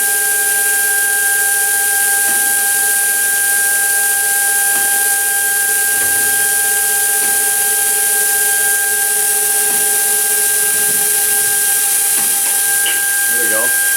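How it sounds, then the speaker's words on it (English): A Tipton EFF-205FA automatic centrifugal finishing machine runs with a steady, loud mechanical whine and hiss, steady tones holding throughout, while a person talks over it. "Then it'll speed up to whatever I have it set on the pot"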